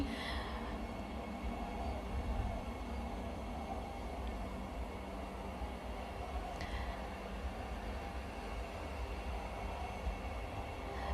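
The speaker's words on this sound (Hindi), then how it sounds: "वंदे भारत ट्रेन भारत की 11वीं तथा मध्य प्रदेश की पहली वंदे भारत ट्रेन है।" Vande Bharat Express train at Kamlapati station in Madhya Pradesh, a steady rail rumble and hum with rolling wheel noise throughout, moderately loud and even.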